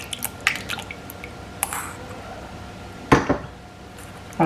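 Intermittent wet squishing and clinking in a bowl, with short bursts of liquid as mashed tamarind is pressed and strained through a sieve, fairly close.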